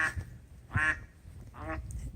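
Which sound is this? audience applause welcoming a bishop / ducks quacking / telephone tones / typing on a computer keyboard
ducks quacking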